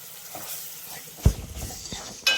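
Ginger paste is stirred into a frying pan with turmeric, giving a soft sizzle, one sharp spoon knock against the pan and a few quieter scrapes.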